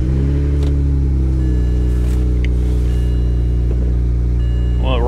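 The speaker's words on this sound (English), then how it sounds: "Well, it runs good. No coolant, or low coolant, so we're not going to run this long. Engine sounds good." A BMW engine idles steadily with low coolant, a deep, even rumble holding close and loud with no revving and no one talking.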